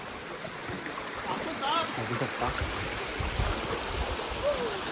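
A river rushes with a steady broadband flow as trekkers cross it on the Naneghat trail, while people talk close by over the water.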